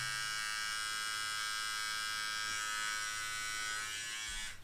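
A Remington MB7000 beard trimmer runs with a steady, close electric buzz and high-pitched motor whine, then switches off abruptly near the end.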